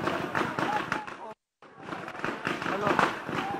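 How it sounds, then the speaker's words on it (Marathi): Firecrackers burst at a district bank election victory celebration in Sindhudurg, where party workers chant slogans. Sharp crackling pops run through loud crowd voices, broken by a brief silent gap. "कार्यकर्त्यांनी घोषणाबाजी करत फटाके फोडलेले आहेत."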